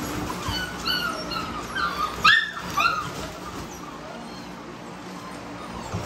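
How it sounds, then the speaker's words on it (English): XL pitbull dogs whimper and yip in a short burst of several high, whiny calls with a louder bark-like cry near the middle, set against steady outdoor background noise, with no talking. "Dogs got crazy, man."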